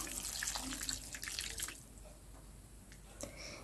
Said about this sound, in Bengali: তো জল অ্যাড করে দিলাম।